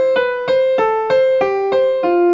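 Piano playing a lower eighth-note pattern without accenting the moving notes: about eight evenly struck, equally loud notes in a steady pulse, close and clear with no talk.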